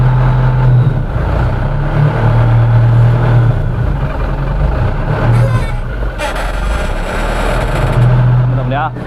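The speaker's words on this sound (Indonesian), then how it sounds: "ini dia penampakan mesin, suaranya masih normal, masih kering, masih orisinil semua" A Mitsubishi Canter 10-ton dump truck with its original, never-rebuilt diesel engine runs at a loud, steady idle close by, while someone talks over the rumble.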